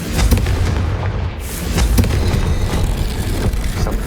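A Confringo blasting spell detonates in Hogwarts Legacy on hard mode, loud booming explosions with a brief sharp burst and rumbling aftermath, no talking.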